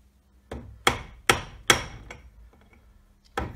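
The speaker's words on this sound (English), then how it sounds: "I'm just going to stake this nut." Sharp metallic strikes of a mallet on a chisel staking a nut on an Ashcroft ATB transfer box centre diff ring out, a quick run of four hits followed by a lighter tap and one more blow after a pause.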